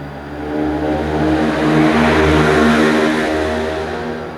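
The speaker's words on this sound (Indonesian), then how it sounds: "banyak suara motor yang bising" Loud, noisy motorcycles pass by outside, a broad engine roar swelling to a peak and slowly fading, with a steady low drone throughout.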